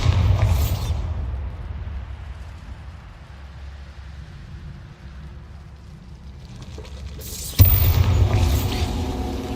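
A Bombarda blasting spell goes off in the Hogwarts Legacy video game, a sharp booming explosion with rumbling debris, preceded by a quieter ambient lull and an earlier burst of crackling impact.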